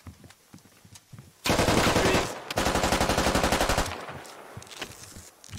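Sustained automatic gunfire from a Squad firefight bursts in loud and close, two long dense rattling strings of shots separated by a brief gap, with scattered quieter shots and movement before and after.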